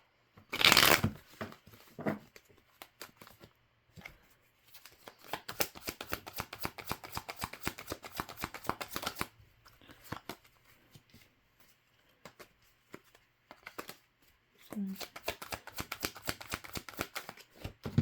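Tarot cards being shuffled by hand, bursts of quick riffling and flicking repeated several times with short pauses between, close and fairly quiet with no speech.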